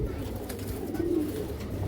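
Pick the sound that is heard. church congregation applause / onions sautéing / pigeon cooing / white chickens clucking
pigeon cooing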